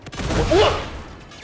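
A brief burst of gunfire rattles out in the video game Uncharted 2, overlapping a player's shouting voice.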